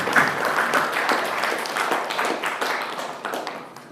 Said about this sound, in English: Please give a billions round of applause to Toastmaster Masood Uncle